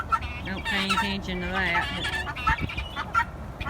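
Older molting chickens cluck and squawk close by in a lively run of calls, while a person talks softly among them.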